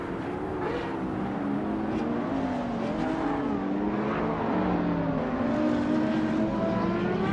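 A Lamborghini Aventador SV engine racing in a game, a steady, high, droning engine note whose pitch rises and dips as it accelerates through gears, continuous and fairly close with no talk.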